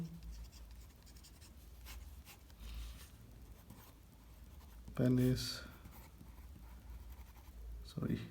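An oversized Deccan Advocate fountain pen with Waterman Red ink writes on 100 GSM paper. Its faint nib scratching sits under a man's speech, with a louder handling rustle midway.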